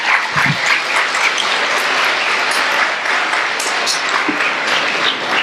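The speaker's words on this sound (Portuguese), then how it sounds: "Aplaude o Senhor Jesus" A church congregation claps loudly and continuously in a reverberant hall, a thick wash of many hands close up, with a few brief low thumps mixed in.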